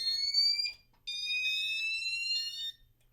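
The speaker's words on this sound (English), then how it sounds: "Of course, the alarm's again." A fire alarm sounds during a system test, loud electronic tones in two bursts separated by a brief gap, with no talking.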